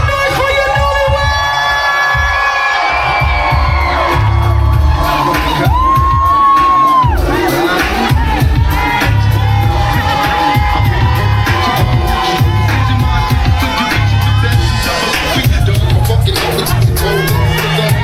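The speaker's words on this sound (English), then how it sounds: "Make some noise for your newlyweds!" A wedding reception crowd cheers and whoops for the newlyweds, a dense sustained roar of shouts and high yells that stays loud and continuous throughout, with some voices rising above the mass.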